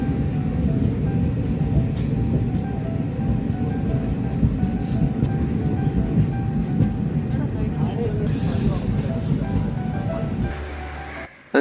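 Passenger train pulling into Puthunagaram railway station in Kerala, heard from on board: a steady low rumble of wheels and carriage noise that fades and settles as the train comes to a halt near the end.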